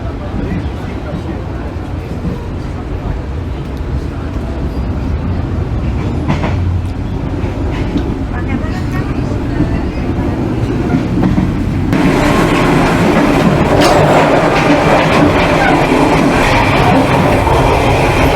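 Inside the Kamandaka passenger train, standing at the carriage door, a loud continuous rumble and rattle of wheels on rails fills the space and swells louder partway through, with faint clicking over it.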